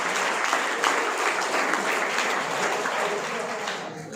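An audience claps steadily for about four seconds, a dense even round of applause that fades slightly at the end.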